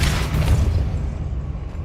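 Depulso spell cast in the Hogwarts Legacy video game: a loud, broad whooshing burst that swells for half a second, then tails off and fades.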